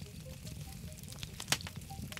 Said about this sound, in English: Now I can hear the sizzling.